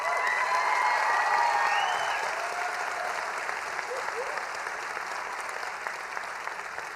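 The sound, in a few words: audience applause for the faculty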